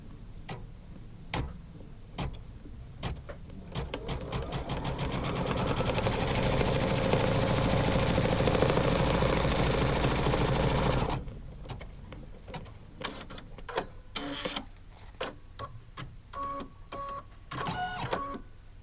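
An embroidery sewing machine stitches a quilt block, starting with sparse ticks, building into a steady loud mechanical whirr for several seconds, then dropping back to scattered clicks and short bursts.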